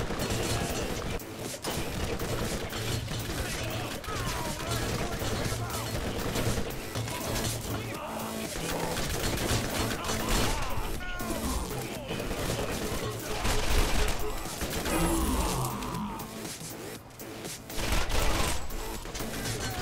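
A Vladof pistol fires in Borderlands in a dense, continuous stream of rapid shots, mixed with busy game effects and background sound throughout.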